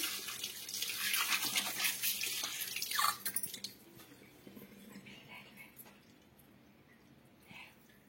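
Water splashes and runs loudly while silver anklets are washed in a basin, the rinsing strongest for the first three seconds, then settling into quieter trickles and small splashes close by.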